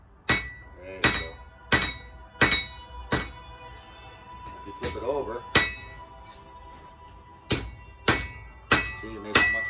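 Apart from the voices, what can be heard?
hammer striking the edge of a blade during forging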